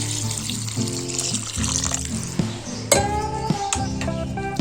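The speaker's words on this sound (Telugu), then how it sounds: "ఇప్పుడు ఇలా కలుపుకున్నాక ఒక 2 గ్లాస్ వాటర్ అయితే వేసేసుకోవాలండి." Two glasses of water poured into a pot of chana dal and potato masala curry in a home kitchen, a close splashing pour with clinks of utensils and dishes against the pot.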